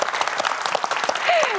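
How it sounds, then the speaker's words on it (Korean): Studio audience applauding at a KBS broadcast talk show, a dense steady wash of clapping throughout, with a brief tonal squeak near the end. "여러분, 이 두 분을 위해서 좀 박수 박수 한번 보내주시기 바랍니다."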